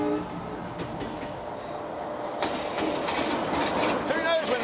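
Old Indian passenger train rolling along with steady rail rumble and carriage rattle, a continuous mid-level wash of noise that grows slightly louder partway through, with faint squeals near the end.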